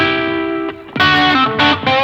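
A distorted 1970 Gibson ES-345 electric guitar chord rings out, cuts briefly, then is struck again twice with a thick, saturated, effects-laden tone, pickup volumes rolled down slightly.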